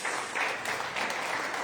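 Church congregation applauding during a Portuguese-language worship service, a steady, dense wash of clapping close and loud throughout, with no voice over it.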